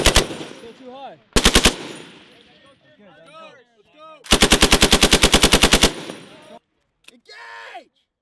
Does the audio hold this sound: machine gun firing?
yes